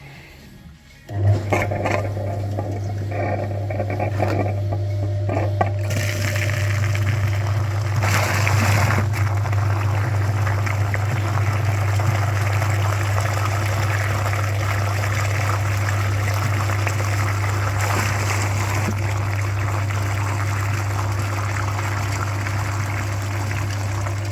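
A flushing machine pumps fluid through a car heater radiator, producing a loud, steady, low pump hum with a watery rushing and trickling layer that starts abruptly near the beginning and runs continuously to the end with no talk.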